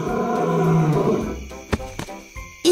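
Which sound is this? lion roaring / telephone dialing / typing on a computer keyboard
lion roaring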